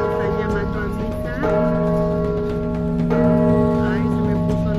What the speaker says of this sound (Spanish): se me puso la piel chinita al escuchar las campanadas de la catedral